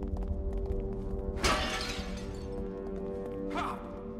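Objects smashing in The Evil Within video game: a loud shattering crash, then a second, smaller break about two seconds later, over a steady low game background hum.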